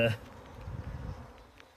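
A steady low droning buzz of many honey bees around a hive, close and continuous, with a brief louder noise at the very start.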